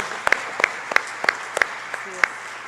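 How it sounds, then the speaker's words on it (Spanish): A church congregation claps in a steady rhythmic beat during a sermon, about ten evenly spaced claps over a busy room hum with voices in the background. "Aplaude el nombre de Dios."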